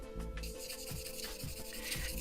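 Steady rubbing and scraping of sandpaper against a hard plastic 1/48 scale model aircraft kit part, repeated short strokes close up, with a faint electrical hum underneath.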